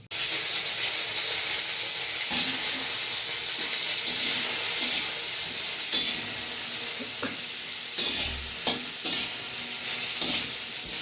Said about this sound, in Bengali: এবার একটু হালকা করে ভেজে নেবো